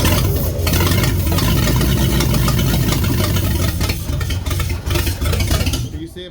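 The engine of a 1948 Ford truck cranks and runs, a loud, rough low rumble close by that holds steady and fluctuates with throttle before dropping off near the end, with voices partly heard over it.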